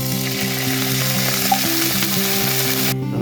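Cauliflower fries in duck fat in a pan, a loud, close, steady sizzle with crackling over a low mechanical hum, ending abruptly.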